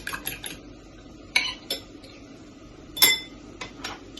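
A utensil clinking and scraping against a bowl while eggs are beaten, with scattered sharp metallic taps and one bright ringing clink, close and clear, no voices.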